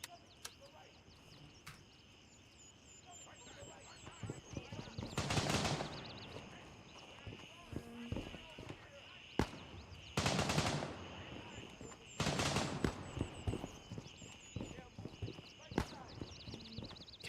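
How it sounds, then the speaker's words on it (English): Distant bursts of automatic gunfire in Gray Zone Warfare echo across the surroundings, a few rolling volleys and scattered single shots over a quiet background with faint movement sounds. "where is that shooting happening now?"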